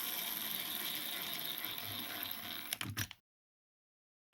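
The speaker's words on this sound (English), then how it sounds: "We will use the impact driver to run the screws back in there with the T10 Torx." An impact driver runs T10 Torx screws back into a Bosch 1/2 inch drill, a close, steady whirring rattle that ends in a few sharp hammering bursts before cutting to silence, with a small click at the end.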